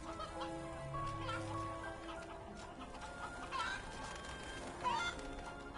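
Chickens cluck softly in a farm area of the video game MediEvil, faint scattered clucks over a quiet ambient game soundtrack with low drones and occasional tonal chimes.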